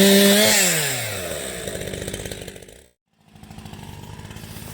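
A Homelite 540 chainsaw, a late-1980s design, revs down from a high whine into a rough, buzzing idle, cuts out briefly, then restarts and chugs on steadily, close and alone with no talk.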